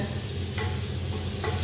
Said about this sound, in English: Just frying it a little bit before I put the